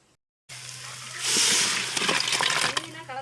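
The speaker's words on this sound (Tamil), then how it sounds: "ரெண்டு கப் தண்ணி சேர்த்துக்கிட்டேன்" Two cups of water gush and splash into a cooking pot of goat trotter soup for a couple of seconds, loud and close, after a brief silent start.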